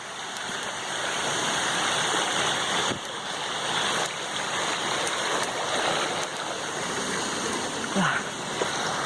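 Creek water flows and rushes as a steady, broad hiss during a nature walk, constant and fairly close with no talk.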